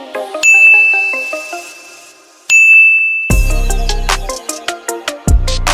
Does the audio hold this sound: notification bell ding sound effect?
yes